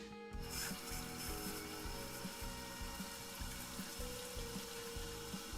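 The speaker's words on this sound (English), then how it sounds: "The water came to a boil." Water coming to a boil in the video game Mamiya, a steady rushing, bubbling wash with a low rumble and faint rhythmic ticking beneath, continuous and fairly close with no voices.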